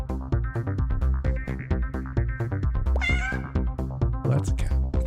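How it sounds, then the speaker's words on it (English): Cat meows sound in the Hidden Cats game, short bright mews over a looping plucked bass line and game music, with a couple of higher chirpy calls standing out near the middle and end. "Well, that's a cat."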